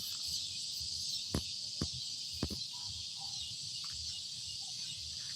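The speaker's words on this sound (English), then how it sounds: "EagleNick Audits can sit here all night listening to them there cicadas and katydids" A dense, steady high-pitched buzz of cicadas and katydids fills the night, with a few sharp clicks near the start.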